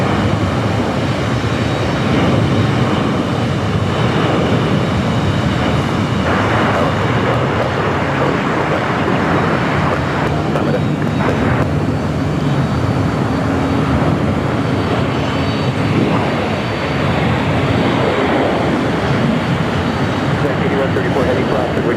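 A United Boeing 737 in Star Alliance livery lands at LAX, a loud, continuous jet roar with broadband rumble that stays steady throughout, while radio chatter is heard over it.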